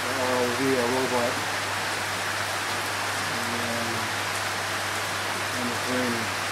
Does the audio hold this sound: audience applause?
no